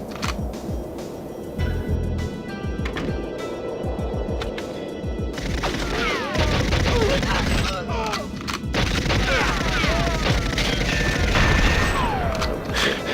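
Rapid bursts of video game gunfire and booming explosions from GoldenEye 007 on the Nintendo 64, on the Surface 2 level, run loud and nearly continuous throughout, with a voice briefly talking over the shooting.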